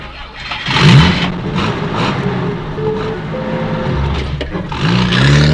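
A car engine turns over and settles into a steady running hum, with a brief rev as the vehicle pulls away; some faint voices in the background.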